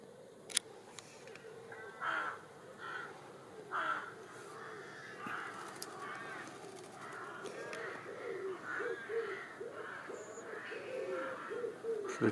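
Pigeons cooing and crows cawing outside a window in Łowicz during a spring snowfall, with a low repeated coo under scattered calls and a few faint clicks over about twelve seconds.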